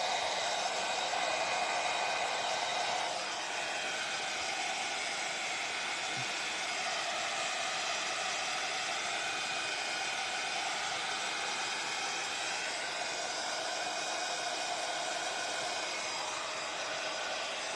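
A heat tool blows hot air onto WoodUBend trims on an open-sided wood box, making a steady, loud, even whoosh that runs unbroken for the whole stretch, with no one talking.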